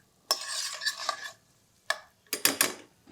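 Ginger, garlic and green chillies fry in a pan while being stirred, giving short bursts of scraping and sizzling spatter separated by brief pauses, close and fairly loud.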